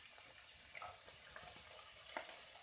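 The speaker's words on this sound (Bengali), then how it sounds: "ভালো করে একটু ফ্রাই করা।" Chopped ginger, garlic and green chilli frying in a pan for egg chicken chowmein, a steady close hiss of oil with faint stirring clicks and no voices.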